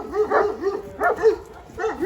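A dog barks and yelps in quick bursts, close and loud, with three clusters of harsh, whining barks separated by short gaps.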